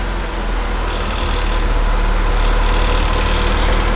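A car engine, freshly repaired and fitted with solid motor mounts, idles steadily with an even drone and no sputter, loud and close throughout.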